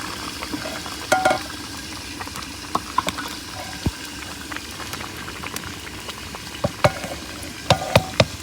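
Hot water poured into cooking greens in a village kitchen: a steady bubbling boil with scattered crackles and pops, continuous and close, no voices.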